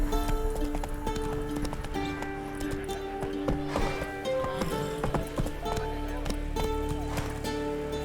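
Horse hooves galloping in The Witcher 3, a fast steady clip-clop rhythm running throughout, close and prominent over game music tones and ambient noise.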